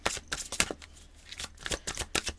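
Oracle cards being shuffled up close, quick bursts of riffling and slapping card edges in an uneven rhythm with short pauses between.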